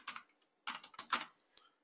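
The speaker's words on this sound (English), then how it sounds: "I'll type the repository URL" Keys clatter on a computer keyboard while a repository URL is entered, two quiet bursts of quick keystrokes separated by a short pause, close and alone.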